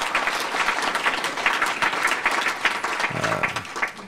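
An audience at a formal annual dinner breaks into loud, sustained applause, dense clapping filling the room throughout without voices over it.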